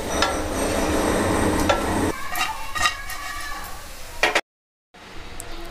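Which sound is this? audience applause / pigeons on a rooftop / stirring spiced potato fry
stirring spiced potato fry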